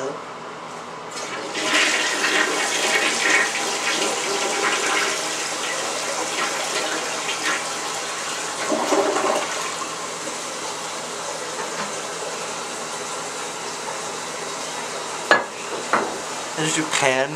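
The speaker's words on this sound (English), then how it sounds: "I'm gonna flush the toilet." A toilet flushes loudly and close up with a long, steady rush of water that continues for well over ten seconds, with some clatter toward the end.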